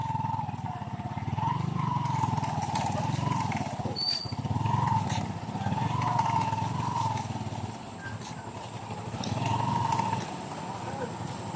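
A motorcycle rolls slowly across a small, narrow hanging bridge, its low engine drone steady and moderately distant with faint creaks and rattles throughout.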